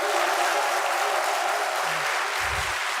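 Church audience at a Friday evening service clapping continuously, a dense, loud wash of applause throughout with a brief low vocal sound near the end.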